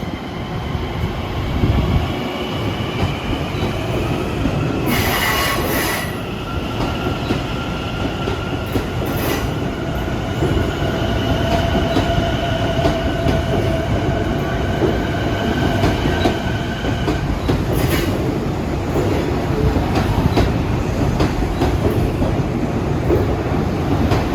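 A Long Island Rail Road commuter train bound for Hempstead rumbles steadily past at close range at the Jamaica hub, with wheels clattering and brief high squeals throughout.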